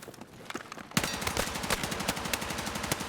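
AK-205 rifle fire in Battlefield 6 erupts after a quieter opening into a loud, sustained automatic burst, with rapid evenly spaced shots continuing to the end.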